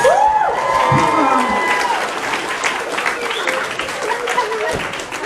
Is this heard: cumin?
no